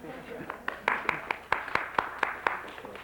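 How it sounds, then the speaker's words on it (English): A small audience at a lecture on grade inflation gives a handful of scattered, separate hand claps in an uneven rhythm, with voices murmuring underneath. "Why don't you applaud that?"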